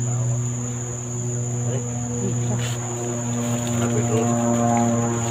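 A drone flies over a mountain area, giving a steady, droning motor hum that runs the whole time, with a high insect-like whine above it and faint voices in the background.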